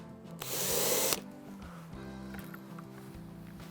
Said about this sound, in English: you can commit and drill a pilot hole